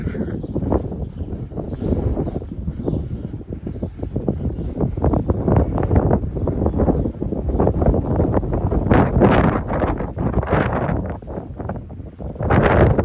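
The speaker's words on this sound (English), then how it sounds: "this town is quite windy, so you might not hear me all as well" Continuous heavy wind buffeting the microphone in a town on the Camino Francés, a loud rumbling roar that gusts and surges throughout.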